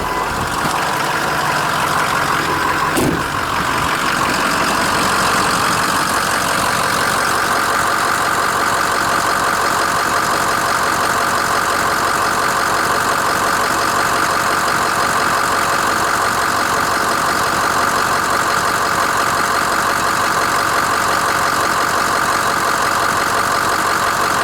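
A 2006 Ford F-350 truck's diesel-style engine idles close by, a steady loud droning rumble that holds unbroken throughout with no speech over it.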